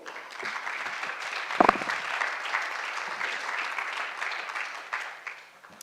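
Audience applause at a French sports panel event, steady dense clapping across the whole stretch with one sharper burst early on, tapering off near the end.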